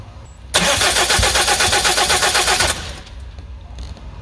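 A car's starter cranks the engine in a loud, rhythmic burst lasting about two seconds. The engine never catches, and the cranking simply stops into quiet.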